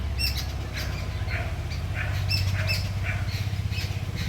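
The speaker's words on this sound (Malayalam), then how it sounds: "ഇവിടെ കിളിയുണ്ട് അവനെ ശല്യം ചെയ്യാൻ കേട്ടോ" Repeated sharp bird squawks and chirps ring out in short bursts over a steady low rumbling background, with no talking.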